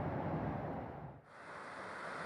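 Desert nature ambience used as a Xiaomi MIUI 10 system sound: a steady, windy broadband wash that dips briefly near the middle and then carries on, with no voices.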